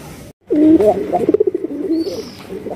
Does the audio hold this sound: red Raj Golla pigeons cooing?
yes